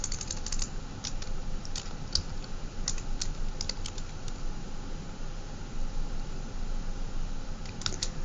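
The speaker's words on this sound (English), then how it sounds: "I type my opinion right here" Steady typing on a computer keyboard in a classroom, a continuous close run of soft clicking keystrokes over a low background hum, with no talking.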